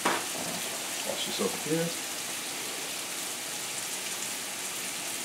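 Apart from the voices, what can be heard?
pork tenderloins frying in oil in a pan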